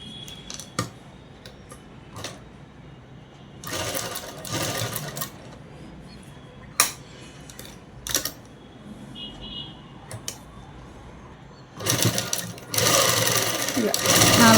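A sewing machine stitches a dress in short, loud bursts separated by pauses, with clicks and handling noise between runs and a longer burst at the end.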